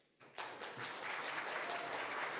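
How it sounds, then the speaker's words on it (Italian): A church congregation breaks into applause, starting abruptly and holding as a dense, steady wash of clapping from many hands, moderately distant in a large hall. "Applauso."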